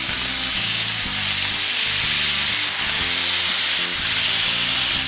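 Flipped cod fillets crackle and sizzle loudly in hot oil in a frying pan, a continuous dense hiss with small pops and stirring-like shifts, no voices over it.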